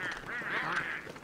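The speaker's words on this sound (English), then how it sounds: "we've got to listen to these guys quacking away all through the blooming winter" Pengulls in the Don't Starve video game quack and honk in a quick, nasal, duck-like cluster, close and moderately loud.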